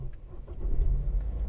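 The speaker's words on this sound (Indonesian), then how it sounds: "Maka mobil akan segera menyala" Push-button start of a BMW 320i Sport F30, the engine catching and settling into a low, steady idle rumble, close and moderately loud, without talk.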